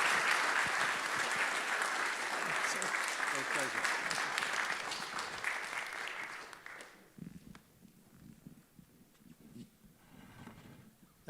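Audience at a health care forum gives a big round of applause, a full dense clapping that holds for about six seconds and then fades out, followed by quieter room sound and a voice starting to speak.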